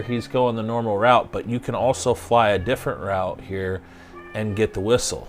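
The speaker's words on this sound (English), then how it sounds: "That's my cat meowing." A pet cat meows repeatedly and loudly indoors, its rising and falling cries overlapping with someone talking throughout.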